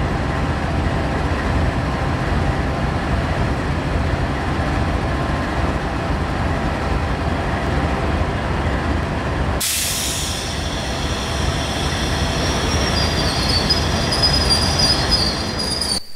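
Freight locomotives switch railroad cars in a Scranton, Pennsylvania yard, with a continuous heavy rumble of rolling stock. Partway through, a shrill wheel squeal starts and keeps going, and no one speaks.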